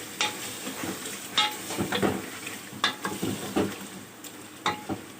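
Arbi gosht masala with salt in a pan is stirred close by, with soft scraping strokes over a low sizzle of frying.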